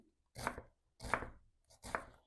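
Three crisp knife strokes on a cutting board, cubing ingredients for a liver roll, close and evenly spaced with short pauses between each chop.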